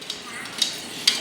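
A spoon stirs chicken soup seasoned with soya sauce in a pot, giving a few close, light scraping strokes over a soft steady hiss.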